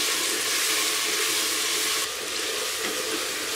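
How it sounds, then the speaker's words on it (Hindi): Onions and tomatoes frying in hot oil for a dhaba-style mutton karahi give off a steady, close, loud hiss and crackle of sizzling that continues without a break and eases slightly partway through, with no talking. "ऑयल गर्म हो चुका है। अब हम इसमें डालते हैं प्याज और इसके साथ ही हम शामिल करेंगे टमाटर"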